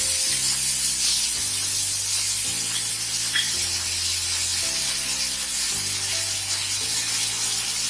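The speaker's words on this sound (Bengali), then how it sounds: "এবার আমরা এর মধ্যে মিশিয়ে দিচ্ছি তেঁতুলের কাজটা" Tamarind is stirred into a cooked spice paste for Bengali vegetarian dhokar dalna, giving a steady hiss and sizzle from the pan, with background music playing softly underneath.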